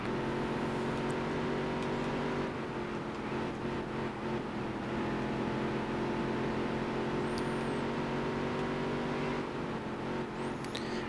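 A race car engine drones steadily in the video game Dirt to Daytona, holding a constant harmonic hum near redline with slight pitch wobble and faint tire and surface noise, loud and unbroken throughout.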